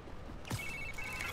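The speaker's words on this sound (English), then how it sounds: "Haley texted me." A short electronic text message alert chimes on a phone in the Spider-Man: Miles Morales video game, a faint high tone with a rising swoop, alone over quiet game ambience.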